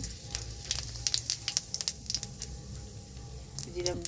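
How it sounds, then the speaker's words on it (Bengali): Cumin seeds and a bay leaf crackle in hot oil, giving a close, busy run of sharp spitting pops over a low sizzle, with faint voices in the background. "জিরা ফোড়ন দিলাম, তেজপাতা ফোড়ন দিলাম"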